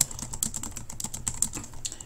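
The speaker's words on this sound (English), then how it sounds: "you're just typing text into the box" Rapid tapping on a computer keyboard while entering text into an online course activity, steady close clicks with a few louder keystrokes and no speech.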